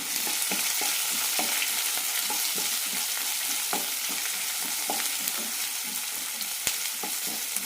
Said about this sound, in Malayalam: സവാള ചെറുതായി ചോക്കുന്നത് വരെ വഴറ്റിയെടുക്കാം